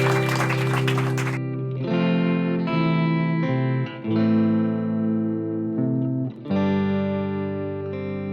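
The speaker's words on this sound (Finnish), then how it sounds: "Antakaa ihmeessä aplodit Iida Raumalle." Applause from a studio audience welcoming guest Iida Rauma on a book-themed talk show: a short, dense burst of clapping that gives way to music.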